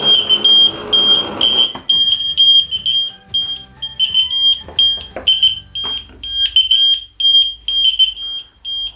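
An ELRO Connects smoke detector sounds a loud, high-pitched electronic beeping alarm in repeated pulses throughout, with a brief low rumble of other noise at the start.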